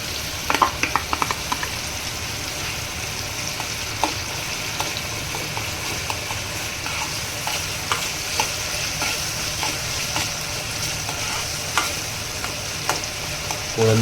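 Prawns frying in a pan for prawn masala make a dense, even sizzle, while repeated scraping and tapping from a stirring spoon come through close and sharp from start to finish.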